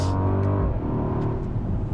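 A 2021 Mercedes-AMG GLE 63 S V8 engine revs in a loud, steady droning tone that dips briefly and then holds on.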